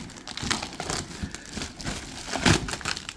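Crinkling plastic bag and plastic shrink wrap being pulled away while unboxing a Kuda Izuna anime figure, a close, irregular rustle with a few sharper crackling bursts and no talking.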